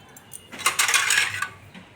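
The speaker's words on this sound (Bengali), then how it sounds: "ওর ডালটা তাহলে ঢাকা দিয়ে রেখে দিই" A lid going onto a bowl of dal: a short, bright metallic clatter and rattle up close, lasting under a second, with a faint tap just after.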